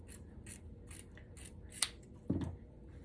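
Scissors snip through fluffy gnome beard material during an Easter bunny gnome craft project, one crisp close cut followed by a duller crunching cut over quiet room noise.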